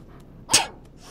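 A single sharp bark from Mushroom, a dog in the video game Life Is Strange 2, rings out close and loud, followed by a faint, quiet background.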